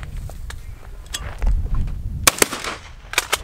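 Bursts of full-auto fire from an AR-14 rifle at an outdoor range, with sharp loud reports in two quick clusters near the end after quieter handling noises and low rumble.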